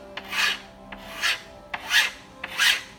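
Hand file rasping along the edge of frameless door glass with tinted film, four separate strokes, each a clear scraping sweep with a short click at its start, close and alone.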